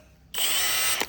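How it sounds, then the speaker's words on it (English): A power drill fitted with a wire brush spins up abruptly after a short silence and whirs steadily at high speed inside a metal tank, ending with a brief scraping clank. "Now what I do is I run the drill"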